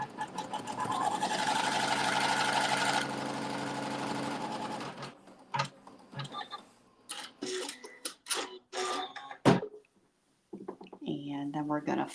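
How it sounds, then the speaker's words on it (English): A sewing machine stitching a seam on fabric strips during a log cabin quilting workshop, a steady close mechanical whir for about three seconds, then quieter intermittent clicks and handling noises with talk in between. "And we're going to sew another seam."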